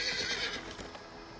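A horse neighs loudly and close in a desert adventure setting, a single bright whinny that trails off over a second and a half.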